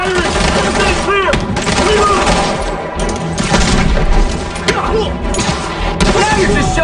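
Dense video game gunfire and heavy booms from Marvel's Spider-Man, loud and continuous bursts of shots and impacts layered with shouting voices and combat noise.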